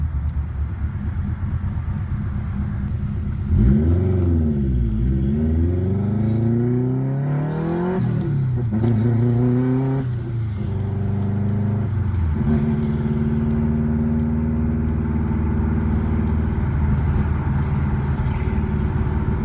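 A car engine with an open exhaust revs up and down several times, rising and falling in pitch, then settles into a loud, steady idle rumble.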